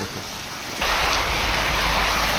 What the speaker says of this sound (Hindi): बारिश है कि रुकने का नाम ही नहीं ले रही और तेज़ हुई जा रही है